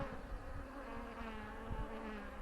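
Honey bees buzz steadily around an opened hive frame of honey, pollen and capped brood, a close, dense drone that continues without talk.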